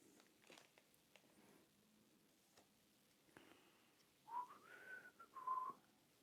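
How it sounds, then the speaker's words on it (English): A person whistles a short melodic phrase, soft and close, after faint brushing and tapping sounds of finger painting. "Try not to whistle while I'm making a YouTube video."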